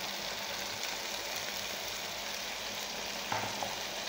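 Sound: green chillies and tomatoes frying in masala

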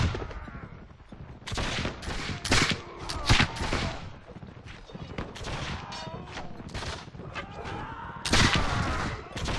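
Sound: carbine gunshots in video game Mount & Blade: With Fire and Sword

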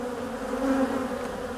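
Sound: honeybee with deformed wings buzzing

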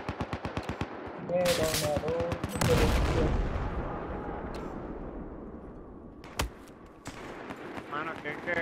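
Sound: gunfire from a .50 cal gun in Battlefield 4 video game

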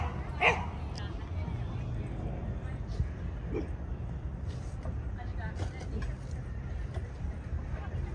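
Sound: dogs barking while playing in Central Park

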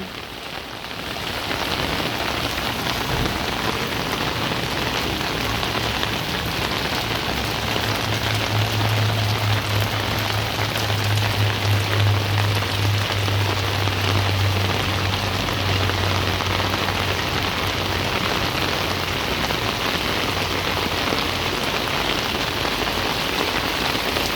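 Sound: heavy rain

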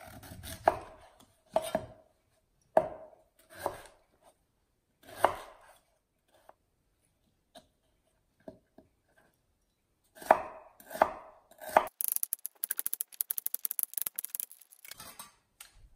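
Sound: knife chopping beet into pieces

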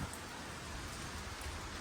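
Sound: rain

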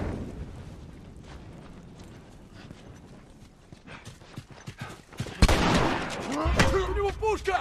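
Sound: gunfire in video game The Last of Us

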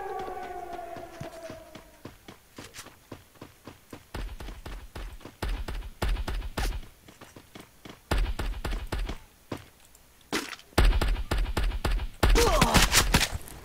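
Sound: gunfire in a video game

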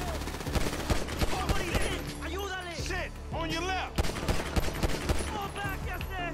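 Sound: gunfire in video game Grand Theft Auto V

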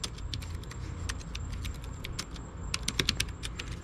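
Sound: typing on laptop mechanical keyboard

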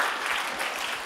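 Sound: audience round of applause

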